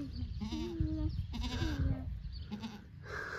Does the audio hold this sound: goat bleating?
yes